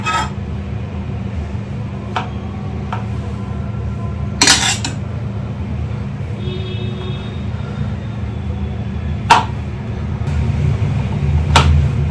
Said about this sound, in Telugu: వీటిని అయితే కొంచెం సన్నగా కట్ చేసుకుందాం